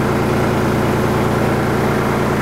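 Kubota compact tractor with a Zuidberg front PTO engaged and turning at 1000 RPM, a steady loud low engine drone with a constant mechanical hum, no voices.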